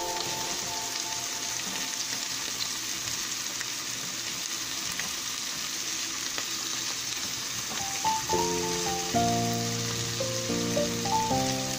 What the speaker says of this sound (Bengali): মিক্সড ভেজিটেবলগুলো একসাথে সমস্ত কিছু ভাজতে দেব, যাতে করে গাজর আর বিনসটা